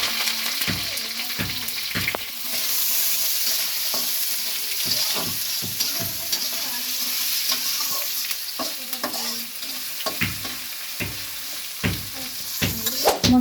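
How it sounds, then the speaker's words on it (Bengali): Chopped onion, green chili and whole cumin fry in a pan, giving a continuous bright sizzle broken by repeated scraping and stirring knocks from a spatula, close and steady throughout. "মশলা ভাজা হয়ে গেছে"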